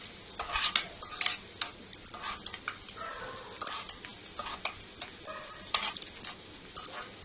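Green chillies and curry leaves frying in a pan for a broad bean and peanut curry, crackling sizzle broken by repeated scraping stirs and clinks of a spoon against the pan, close and alone.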